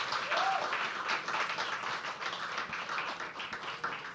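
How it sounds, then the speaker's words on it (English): Audience applause at a live poetry open mic at The Habitat, a steady wash of many hands clapping that holds fairly even for several seconds before thinning slightly. "can we please also have a round of applause for him?"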